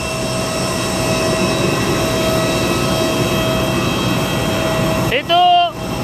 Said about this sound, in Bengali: আমরা উঠছি প্লেনে।